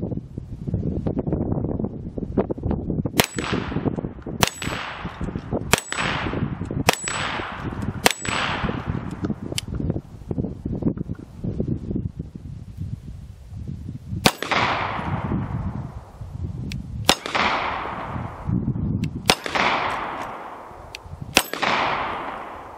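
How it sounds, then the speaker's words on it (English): Handgun and .22 long rifle shots striking an auto-resetting steel target outdoors, a series of sharp metallic clangs spaced a second or two apart over steady wind noise, with no talking. "we'll only be shooting handgun and .22 long rifle at it"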